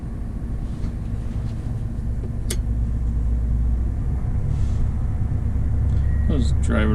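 A 2022 Gleaner S97 combine harvester drives off, its steady low engine rumble heard from inside the quiet cab, growing slightly toward the end, with a voice speaking over it.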